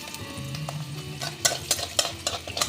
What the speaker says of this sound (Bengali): শুকনো লঙ্কা আর রসুনটা একটু ভেজে নেব